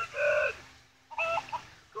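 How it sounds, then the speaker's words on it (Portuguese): A chicken in the Minecraft Story Mode video game gives two short clucking calls, a longer one and then a choppy one after a pause, fairly faint over a low game background hum. "E tem medo de galinha."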